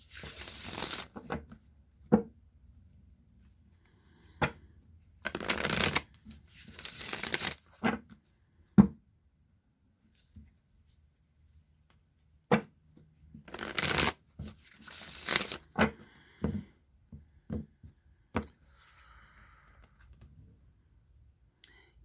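A deck of oracle cards being shuffled for a reading, several separate bursts of riffling and slapping cards close up, with quiet gaps and small clicks between.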